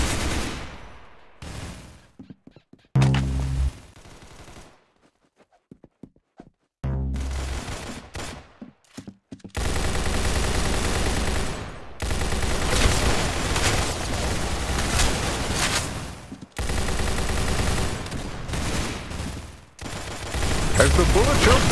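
Gunfire from the Roblox game Arsenal comes in loud bursts of rapid automatic shots and booms, broken by brief quiet gaps and then near-continuous firing.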